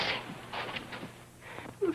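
A single soft sneeze in a 1936 film scene, faint and brief amid quiet room tone, followed by a short breathy sound.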